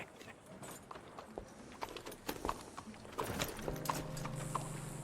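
Horse hooves clip-clop at a walking pace in the video game Red Dead Redemption 2, set against ambient outdoor sound, with a low steady hum growing in partway through.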